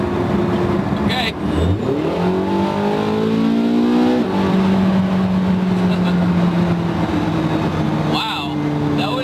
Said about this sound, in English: we're gonna go into sport mode, and there's the combustion motor